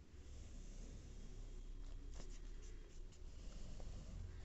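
Pen scratching on paper while someone writes out a maths exam solution, a continuous close rustling scrawl with small taps and strokes, no talking.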